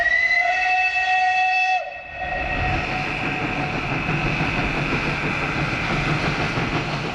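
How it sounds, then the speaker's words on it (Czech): Steam locomotive whistle on a Santa Claus special train in the Czech Republic, a loud sustained multi-tone blast that cuts off briefly before the chuffing and rumble of the train under way carries on steadily. "plnou parou přijíždí Mikuláš"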